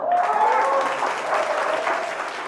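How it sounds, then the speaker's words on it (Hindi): A wedding crowd gives a short, dense burst of clapping to welcome a singer, steady and moderately loud, with a faint tone lingering underneath. "जोरदार तालियों से स्वागत कीजिए"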